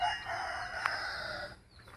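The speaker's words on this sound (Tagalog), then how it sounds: "nagbreeding din ako ng mga malalaking klaseng manok" A rooster of a large chicken breed crows once, close and clear, a drawn-out call that fades out near the end with no talking.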